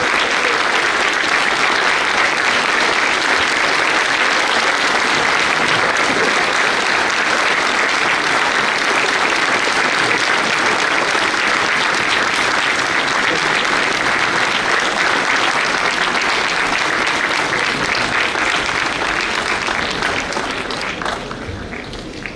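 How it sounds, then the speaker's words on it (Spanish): A large audience gives sustained, loud applause for an honoree at a university ceremony, a dense unbroken wash of clapping that holds steady for about twenty seconds before starting to fade. "Un fuerte aplauso"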